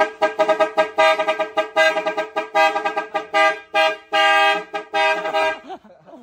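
Loud, close car horn blasts in a rapid series of short and longer honks, sounding nearly continuously before cutting off at the end.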